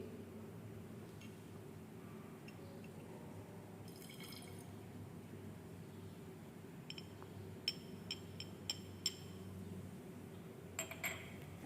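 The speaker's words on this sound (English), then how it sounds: "Now we transfer 10 ml of concentrated hydrochloric acid ." Concentrated hydrochloric acid is poured into a round-bottom flask in a lab, a faint liquid trickle under a low steady hum, followed by several small glassy clinks and taps.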